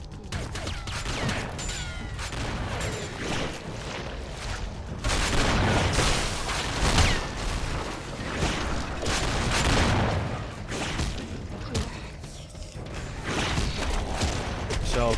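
Guns fire repeatedly during BloodRayne 2: ReVamped combat on PS5, with booming shots and mechanical clatter layered through the action. A person talks over much of it.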